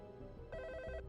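A telephone ringing unanswered in an audio drama, a single quiet burst of trilling ring lasting about half a second over low background.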